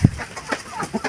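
A brief, faint mix of chicken clucks and fowl calls, with a low thump at the start and scattered chirps over quiet farmyard background.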